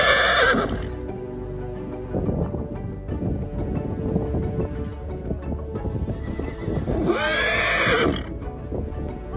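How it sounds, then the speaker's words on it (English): A herd of horses on a wilderness riding expedition in Iceland, with loud close whinnies at the start and end and steady hoof clip-clop between, over light wind. "another herd of horses showed up unexpectedly"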